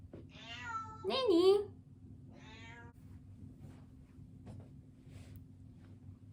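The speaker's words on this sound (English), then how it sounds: "So this is the loud cat." A pet cat named Nanny, shut out behind a closed door, lets out one loud, drawn-out, wavering meow close by, followed by a shorter cry. Someone speaks briefly just before it, over a steady low hum.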